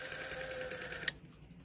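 A cleaned and lubricated Western Electric vintage rotary phone dial returns with a rapid, even train of about a dozen soft clicks over a steady whir, ending in a sharper final click before quiet.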